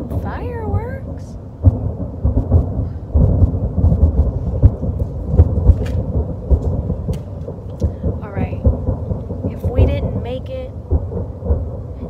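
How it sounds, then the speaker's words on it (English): Fireworks pop and boom in a continuous rumbling barrage from a distance, with occasional whistling rockets rising above the thunderous rolling bangs. "That's a lot of damn fireworks."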